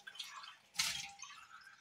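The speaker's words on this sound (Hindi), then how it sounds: "और हाफ कप में हम तकरीबन 2 कप पानी डाल देंगे।" Water poured into a pot of barley porridge (jau daliya) gives a faint, close splashing trickle that swells briefly partway through, with no voices.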